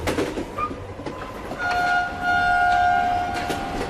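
A passenger train bound for Karachi rumbles steadily while sustained horn-like whistle tones ring out over the running noise, loud and close, with no voices.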